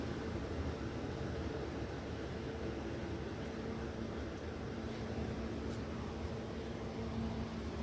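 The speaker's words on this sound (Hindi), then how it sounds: "पंखा भी चल रहा है, कूलर भी चल रहा है, तो इतनी ज़्यादा खड़खड़ाहट की आवाज़ आ रही थी" A ceiling fan and an air cooler run together indoors, producing a steady broadband whir with a faint low hum and slight rattling, constant and unbroken throughout.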